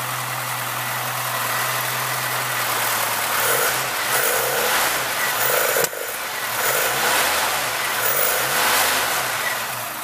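The 1.4-litre engine of a 1976 Chevette runs steadily close by, with a smooth idle that rises into several brief revs, and the steady note continues throughout.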